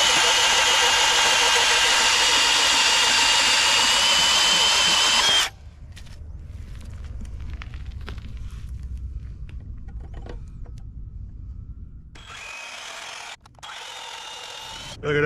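A power tool grinds loudly through a metal compression post stub on a Catalina 30 sailboat for about five seconds, then cuts off, leaving quieter handling and rumbling before a second loud burst of cutting near the end.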